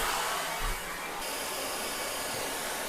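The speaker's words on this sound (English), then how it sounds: "really where this vacuum stands out is this docking station" A robot vacuum's docking station auto-empties the dustbin with a loud, steady, close suction roar and airy hiss that stays constant throughout.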